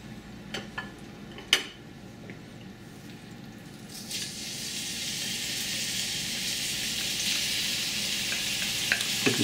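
Lard frying in a pan for cowboy beans, a steady sizzle that grows louder and brighter over several seconds, with a few sharp clinks of a utensil or pan near the start.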